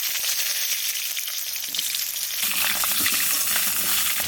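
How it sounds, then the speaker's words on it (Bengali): Cut potato pieces fry in hot oil, a steady dense sizzle with occasional stirring scrapes, close and constant throughout with no talking. "এবার আলু কাটা ভেজে নিই।"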